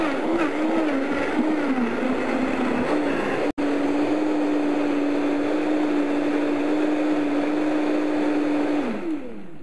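A high-power blender runs steadily at full speed blending green tomato gazpacho, a loud continuous whirring drone with one sharp click partway through, then winding down at the end; no talking.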